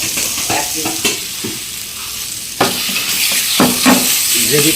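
Onion and cashew gravy sizzles in a pan for handi chicken masala while a ladle stirs it, with scraping strokes and clinks over a steady loud fry and no talking.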